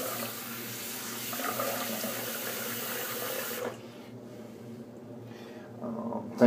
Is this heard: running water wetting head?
yes